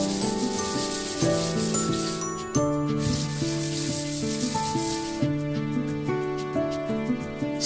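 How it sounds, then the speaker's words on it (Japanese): Sandpaper rubbed by hand across a bathroom unit-bath floor sheet, a steady raspy scrubbing that pauses briefly, heard under louder background music. "このように隅々までペーパーをかけます。"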